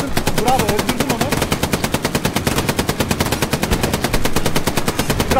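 Rapid automatic gunfire from the World War II shooter game Hell Let Loose rattles on without a break, loud and close, with scattered bursts layered over one another.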